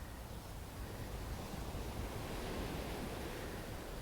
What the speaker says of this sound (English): the beautiful sound of the ocean waves